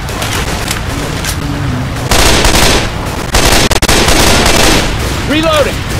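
Rapid automatic gunfire and booms from the Left 4 Dead 2 video game, loud and sustained in dense bursts, with a brief shout partway through.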